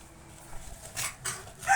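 A dog makes a few short, scruffy barking or whining sounds close by, in quick bursts against a steady background hiss.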